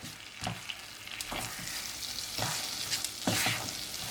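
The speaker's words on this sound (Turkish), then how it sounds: "Bir su bardağı irmiği tavama aktarıyorum. Sürekli karıştırıyorum." Semolina stirred continuously in a pan with a little butter for pumpkin semolina halva makes a constant close sizzle, broken by regular scraping strokes about once a second with a spoon or spatula, and no voices.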